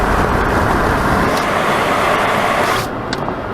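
A Kia Rio 1.5 CRDi accelerates hard on the road at high speed, a loud continuous rush of engine, tyre and wind noise that eases off slightly near the end.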